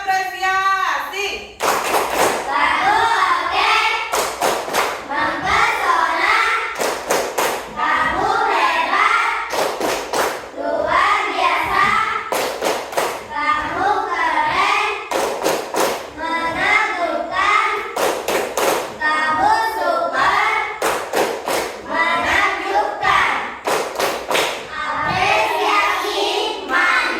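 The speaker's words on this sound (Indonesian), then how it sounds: "Tepuk apresiasi." A classroom group performs a rhythmic appreciation clap: loud, sharp hand claps in repeated patterned bursts with pauses between, voices chanting along over the beats.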